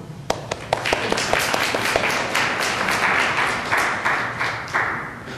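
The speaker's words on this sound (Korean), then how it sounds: "여자분들을 위해서 박수." An audience claps for the women present, starting as a few scattered claps and quickly filling into steady, moderately loud applause that continues throughout, with no talking over it.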